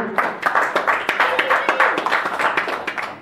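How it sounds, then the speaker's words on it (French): An audience at a certificate ceremony claps in a short burst of distinct, close hand claps with a quick uneven rhythm, loud and clear for about three seconds. "Est-ce qu'on peut applaudir pour Fadoumatou?"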